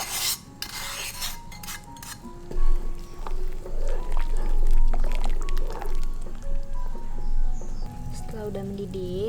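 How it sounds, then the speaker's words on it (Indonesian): Sautéed spice paste scraped and poured into a pot of chicken broth for mie Jawa makes soft rasping and wet sliding sounds close up, with someone talking over it. "Lalu kita masukkan bumbu yang tadi udah kita tumis."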